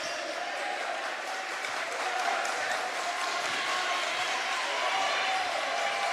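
Crowd noise fills a high school basketball gym during a Shady Spring Tigers versus West Side Renegades game, a steady roar with applause-like texture throughout, fairly loud and continuous with no clear break.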